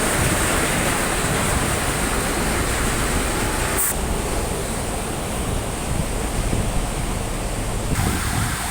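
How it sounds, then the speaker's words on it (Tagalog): Sudden heavy downpour on a city street near Cubao, a dense, steady roar of rain that holds loud and unbroken from start to finish, with no voices. "So, ang lakas ng ulan mga kahagar."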